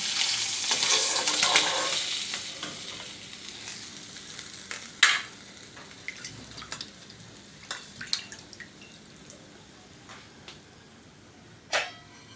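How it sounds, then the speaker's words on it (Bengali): Cumin seeds tempering in hot oil give a sizzling hiss that is strongest in the first few seconds, then thins into scattered crackles and sharp pops close by, with no talking. "তো তেলের মধ্যে দিয়ে দিলাম জিরে ফোড়ন"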